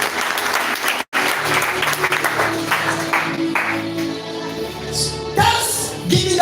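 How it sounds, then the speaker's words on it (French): Church congregation applauding during a service, sustained, dense clapping and crowd noise lasting several seconds, briefly dipping once, with music or voices mixed in. "Applaudissez pour Jésus-Christ."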